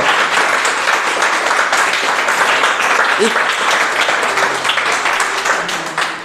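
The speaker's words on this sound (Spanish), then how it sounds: "dale un fuerte aplauso al Señor" Loud, continuous applause from a church congregation during a sermon, many hands clapping close and dense, with a few voices briefly audible underneath.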